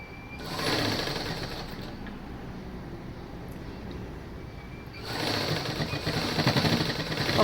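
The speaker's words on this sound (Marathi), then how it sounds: "अगदी हलक्या हाताने हळूहळू आपल्याला गोट मारत जायचं आहे" A sewing machine stitches gota trim onto a blouse neckline in two close, loud bursts of rapid rattling needle strokes, separated by a quieter stretch of lighter running.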